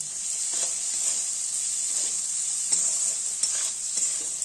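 Garam masala stirred into vegetables frying in a pan for a vegetarian sabu dish: a steady high hiss of sizzling oil with repeated soft scraping strokes of a spoon, close and alone.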